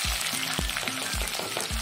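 Chopped onions and green chilies fry in hot oil, giving a loud, dense sizzle close up, with a regular series of low scraping thumps from stirring and no talk.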